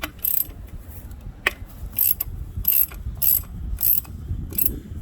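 A ratchet loosens 10 millimeter hex bolts on the oil cooler of a Dodge Dart/Fiat 1.4L turbo, with repeated short, close clicking bursts in an even rhythm over a low background hum.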